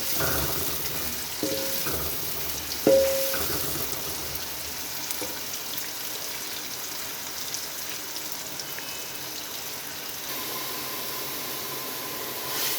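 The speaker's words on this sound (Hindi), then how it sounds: "प्याज को 5 से 6 मिनट तक हल्का फ्राई कर लेते हैं" Onions fry in a pan with a steady, soft sizzle, a few clinks of a utensil early on, and a constant hiss throughout.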